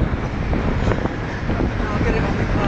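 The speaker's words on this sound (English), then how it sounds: "Very bloody windy." Strong wind gusting across the microphone outdoors beside a city building, a loud, steady broadband roar with rumbling buffets throughout.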